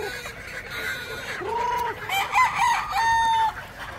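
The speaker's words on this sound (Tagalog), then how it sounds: "Ayan o, mga manok na ito," Chickens, four months old, cluck and crow nearby, several birds calling over one another in short, rising and falling squawks.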